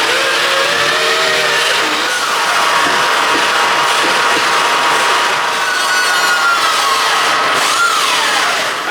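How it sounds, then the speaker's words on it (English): Power drill working through a metal bracket for a Corvette C8 fuel rail, a continuous harsh grinding whine with rising and falling pitch sweeps as the bit cuts and countersinks. "So I'm gonna countersink everything to hopefully it goes exactly back in its place."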